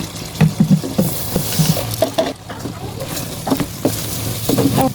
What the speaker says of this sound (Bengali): আমি এর ভিতরে চাউলটা অ্যাড করে দিব